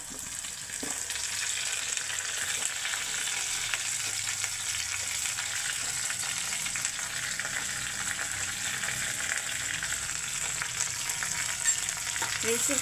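Onions frying in a pan with ginger and green chillies, a dense, even sizzle held close and steady throughout, with a few faint stirring scrapes and no talk.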